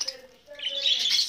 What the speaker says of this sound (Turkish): Bakın burada muhabbet kuşları var.